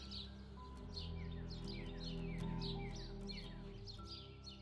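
Many small birds chirp and tweet in quick, repeated bursts near a hotel in Rome, faint and continuous over a low steady hum with a light breeze, and no one speaks.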